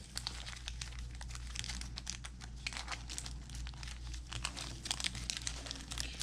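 A foil wrapper on a 1990-91 NBA Hoops basketball card pack crinkles and tears continuously up close as the pack is opened, a dense rustling texture with no talking.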